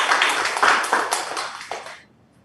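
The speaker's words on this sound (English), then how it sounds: "we want to give all of our sponsors a big round of applause as a thank you for supporting this event" Applause for sponsors at a live pitch breakfast event, a short burst of audience clapping that fades out within two seconds.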